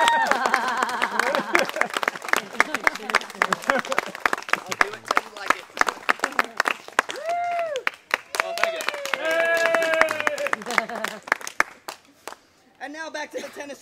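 Audience at the St. Louis Renaissance fair claps and cheers for a club-juggling trick, a dense run of hand claps with crowd noise and voices mixed in, tapering off near the end.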